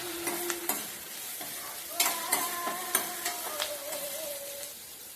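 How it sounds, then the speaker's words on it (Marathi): Onion, curry leaves and green chili sautéing in a pan, a bright sizzle under repeated close clinks and scrapes of a stirring spoon against the metal. "कढीपत्ता हिरवी मिरची कांदा चांगला परतवून घेऊयात"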